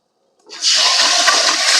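After a brief silence, a loud gush of turmeric-and-salt water pours suddenly into a pot of mutton and keeps splashing steadily.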